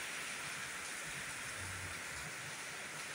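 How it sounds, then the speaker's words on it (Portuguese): Gentle rain falling on a rooftop vegetable garden in São Paulo's north zone, heard as a steady, even hiss of drops with a light breeze and no voices. "Aqui está chovendo, é São Paulo, capital, Zona Norte. Olha a chuva."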